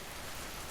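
Steady rain falls on an outdoor surface, a dense, even hiss of drops that stays constant and close throughout with no voices or other sounds.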